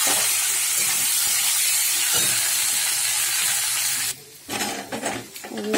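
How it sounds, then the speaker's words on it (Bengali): Potatoes frying in hot oil with a dry red chili tempering, a loud, steady hiss of sizzling that drops away abruptly near the end, followed by quieter crackles and clatter. "একটা শুকনো লঙ্কা ফোড়ন দিয়ে আমি আলুটা ভেজে নিচ্ছি"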